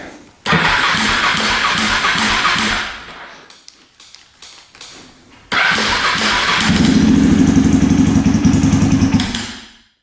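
A 625cc supermoto motorcycle engine, set on choke, cranks and fires into a loud close rev, falls to a sputter, catches again and runs briefly before cutting out.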